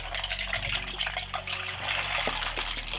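Hot water runs steadily from a tap while parts of a Gamepower Ogre RGB mechanical keyboard are being cleaned, a continuous close splashing flow with a few faint clinks.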